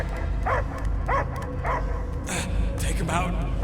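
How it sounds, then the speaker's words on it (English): Dog barking in the Guardians of the Galaxy video game, several yapping bursts spaced through the clip over a constant low rumble, mixed with game voices and sound effects. "I hear only barking."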